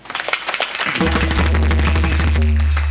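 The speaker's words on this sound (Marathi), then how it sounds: "एकदा टाळ्या वाजवा सगळ्यांसाठी" Applause from the audience for everyone at a kirtan: a scattering of claps builds within the first second into loud, sustained clapping, with a low steady hum and other sounds mixed in.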